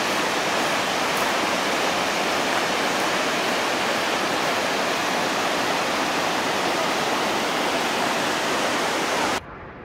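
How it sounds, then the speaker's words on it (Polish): A waterfall in Norway roars as a dense, constant rush of water, loud and unbroken for nearly ten seconds before cutting off abruptly. "Widok na wodospad, który jest obok."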